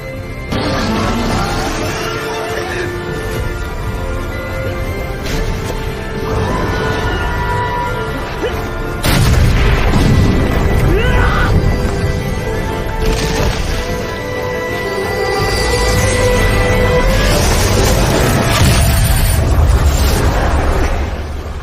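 Fire Bolt magic spell explosions in an anime fantasy film: loud, dense, continuous blasts and rumbling bursts, with sharper impacts rising out of a sustained roar over the whole stretch.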